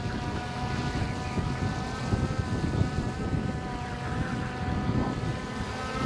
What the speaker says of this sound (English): the drone should stay in the same spot.